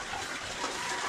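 Water pours from a faucet in a steady, unbroken gush at close range, a short continuous stream with no voices.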